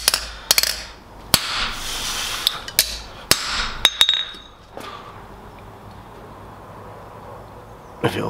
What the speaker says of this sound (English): what I'm gonna do now is I'm gonna try and make a big dirty groove by smacking it with the corner